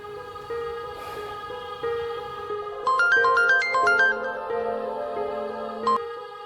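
A melodic electronic phone ringtone plays a repeating tune of bright beeping notes, fairly loud and close, with no talking.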